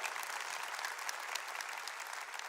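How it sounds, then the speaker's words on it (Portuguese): A crowd applauds steadily during a Catholic priest's sermon, dense clapping filling the space at an even, lively level with no pauses. "Então aplauda para valer."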